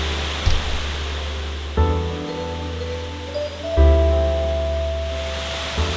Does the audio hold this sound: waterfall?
yes